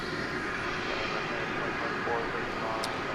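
A heavy jet airliner rolls down runway 17R at DFW at night for takeoff to Istanbul, a steady broad engine roar filling the scene at moderate distance with faint talk over it.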